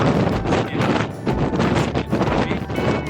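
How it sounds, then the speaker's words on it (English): Strong wind at Cape Agulhas, South Africa's southernmost tip, buffets the microphone with a loud, continuous low rumble and gusty roar throughout. "it's very windy today"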